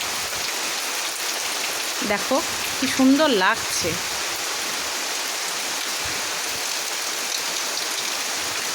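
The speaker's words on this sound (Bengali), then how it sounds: "এই বিকেলবেলায় কীরকম অঝোর ধারায় বৃষ্টি হচ্ছে দেখো" Steady, dense hiss of heavy rain pouring on an afternoon, with a cool breeze, continuing evenly throughout; a person speaks briefly over the downpour.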